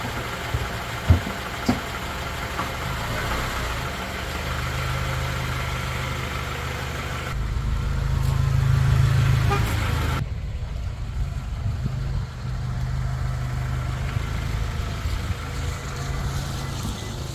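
A Honda Element's engine idles steadily at close range, a low constant rumble that swells slightly partway through, with no talk over it.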